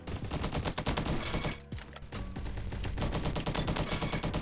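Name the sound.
SM-03 gunfire in a video game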